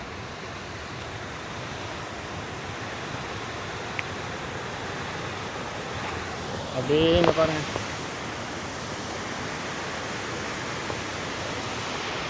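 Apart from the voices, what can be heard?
water rushing through dam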